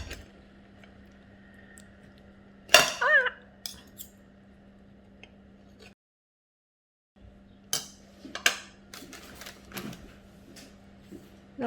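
A knife cutting a reheated pizza in two on a plate, with a few sharp clacks and scrapes of cutlery against the dish, close by over a low steady hum, separated by a brief silent gap.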